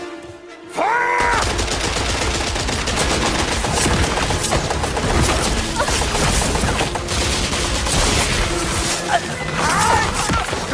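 Heavy gunfire in the Indiana Jones and the Great Circle video game, dense bursts of rapid automatic shots and scattered single cracks over a busy combat score, with shouted voices mixed in.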